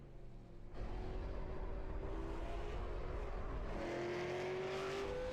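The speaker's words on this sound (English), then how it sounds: "Drivers making the final 45 seconds of warm-up here at Langley for the Beth's Colorful Creations Throwback 150." Race cars on warm-up laps at Langley Speedway before a throwback 150-lap race, with a steady distant roar of engines and rising whines as cars pass.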